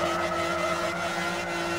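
A race car engine in the video game Project Gotham Racing 3 drones loud and close at a high steady pitch, with a constant whine that barely changes throughout.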